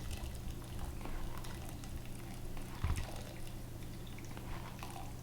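Boiling-hot roasted turkey broth drains through a strainer with a soft, steady trickle and faint bubbling, close by, with one brief louder splash partway through.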